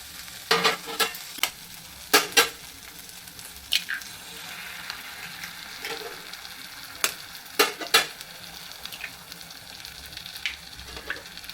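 Eggs are stirred into cooked fenugreek leaves in a pan, with a soft sizzle under repeated scraping and clinking strokes of the spatula against the pan.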